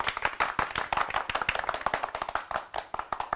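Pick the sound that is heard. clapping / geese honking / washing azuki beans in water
clapping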